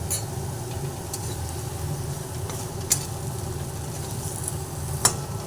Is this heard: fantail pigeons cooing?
no